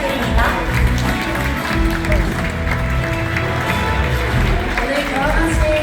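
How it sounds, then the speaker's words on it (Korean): Wedding guests give sustained applause for the groom's parents at a Korean wedding ceremony, dense steady clapping from a large crowd mixed with music and voices, filling the whole stretch at an even loud level. "끝까지 큰 박수 부탁드립니다."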